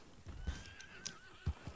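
Horse in a Western video game neighs with a whinny over soft hoof clip-clops, close and fairly quiet, with no talking.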